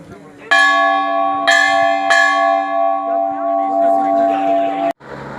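A large temple bell at a Badri-Kedar pilgrimage shrine rings out with three loud, close strikes, its metallic tone lingering and humming for several seconds, with faint voices in the background.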